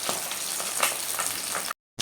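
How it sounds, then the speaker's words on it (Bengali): Pabda fish fries in hot oil in a home kitchen pan, giving a steady loud sizzle with frequent sharp spattering pops for about a second and a half before the sound abruptly cuts to silence. "এই মাছ ভাজতে গেলে ভীষণ ফাটে।"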